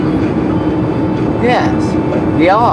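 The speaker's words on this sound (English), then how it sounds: "We're racing. We're neck and neck with the BNSF train." BNSF freight train with a pair of locomotives hauling empty flat cars rolls alongside a moving vehicle, giving a loud continuous rumble with rhythmic rail clatter as a person speaks briefly over it.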